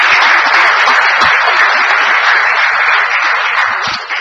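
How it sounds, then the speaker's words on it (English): Audience applause at a city council meeting, a loud, dense burst of many hands clapping close by that holds steady and tapers slightly at the end. "Let's give him another round of applause as he walks out."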